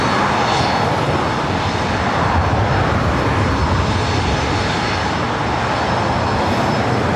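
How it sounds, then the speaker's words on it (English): Delta Airlines Boeing 737-800 departing LAX for Salt Lake City, a loud, steady jet engine roar filling the whole stretch without any voices. "Delta Airlines Flight 2311 heading to Salt Lake City,"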